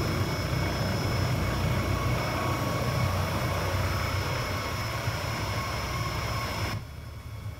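Steady, loud rotor and turbine drone of a Vskylabs 902X helicopter flying in the X-Plane 12 simulator, continuous and unbroken, dropping slightly in level near the end, with no talk over it.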